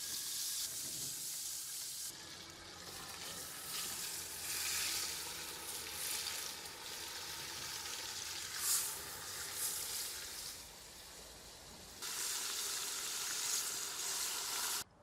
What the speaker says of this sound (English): add a little vegetable oil and butter, and put the chicken in the cauldron for frying